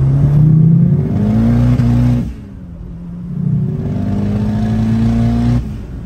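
A car engine pulls hard under acceleration, loud and close, its pitch climbing through a gear, dropping briefly at a shift around the midpoint, then rising again.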